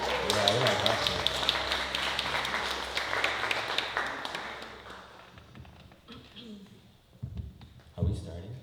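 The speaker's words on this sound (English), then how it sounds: "Can we make some claps for solidarity and mutual aid?" Audience at an artist showcase and fundraiser clapping, a dense burst of many hands applauding close and loud, then thinning into scattered claps and fading, with voices mixed in.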